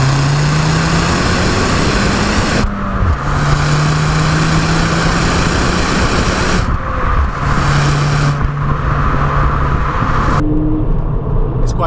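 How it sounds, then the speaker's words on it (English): A Ford Fiesta ST fitted with the Mountune MP215 upgrade and its exhaust is heard from outside. A loud, steady engine drone rises and falls through several rev sweeps, with brief drops where the throttle lifts and no voices. "cue the exhaust shot"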